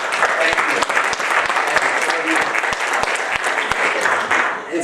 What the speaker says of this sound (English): can I just give a huge hand clap to those that are, thank you.